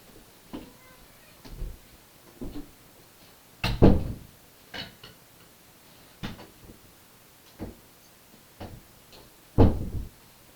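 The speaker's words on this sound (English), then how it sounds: "opening up the kitchen cabinets and slamming them shut" A cat opening kitchen cabinet doors and slamming them shut: a scattered series of sharp wooden knocks and bangs, some louder than others, in an otherwise quiet room.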